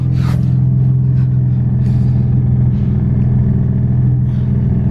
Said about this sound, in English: Let's give her a couple revs, see what it sounds like.